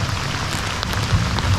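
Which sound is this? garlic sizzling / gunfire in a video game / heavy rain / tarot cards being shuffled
heavy rain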